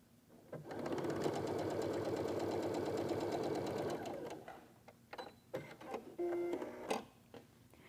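Domestic sewing machine with a quarter-inch presser foot stitching strips of fabric for a quilt, running steadily at close range for about three seconds, then stopping amid light handling noises.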